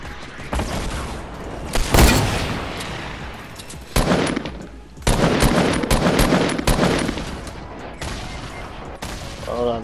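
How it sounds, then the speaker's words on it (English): Dense gunfire in a shooter video game, bursts of rapid shots and loud cracks coming in waves across the whole stretch, with brief quieter gaps between volleys. "Oh, more people shooting at us."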